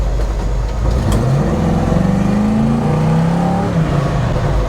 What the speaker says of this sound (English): And it makes cool V8 noises.